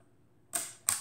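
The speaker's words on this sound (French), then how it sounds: "Et on a le déclencheur qui est juste ici." Shutter release on a German-made Montanus Pluscanar 75mm f/3.5 twin-lens reflex camera. Two crisp, close mechanical clicks come about a third of a second apart in an otherwise quiet room.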